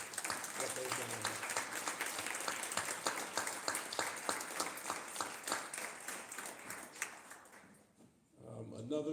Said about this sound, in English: ask everybody to give a round of applause to the employees for the Village of Dolton